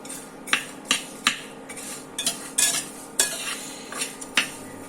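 Dry protein laddu ingredients roasting in a pan over low heat are stirred with a utensil, giving a series of sharp scraping clinks against the pan at an irregular rhythm, close and fairly loud over a faint background hiss.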